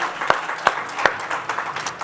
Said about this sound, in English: Give Reverend Parker, Chris another round of applause for their time.